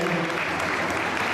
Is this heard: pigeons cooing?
no